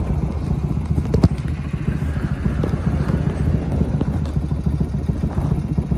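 Low, steady BMW R100 motorcycle engine rumble running continuously with some wind buffeting against the microphone.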